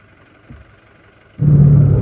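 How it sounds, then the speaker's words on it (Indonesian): Diesel engine of a 2023 Toyota Kijang Innova Reborn 2.4 G with manual transmission firing up after a brief starter crank, then settling into a loud, steady idle rumble. "kemudian kita nyalakan mobil"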